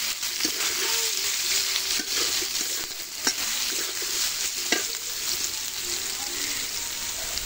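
Soybean chunks and potatoes frying in hot oil with a steady, fairly loud sizzle, broken by occasional spoon stirs and taps against the pan.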